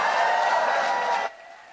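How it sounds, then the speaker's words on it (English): Loud, dense crowd applause and cheering at an election-eve political rally for Senator Adam Schiff, sustained for about a second before cutting off abruptly to near quiet. "one more time, a loud round of applause for Senator Adam Schiff"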